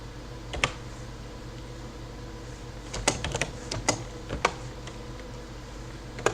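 Keys clatter on a computer keyboard in short irregular bursts of clicks, close and fairly quiet over a faint steady hum.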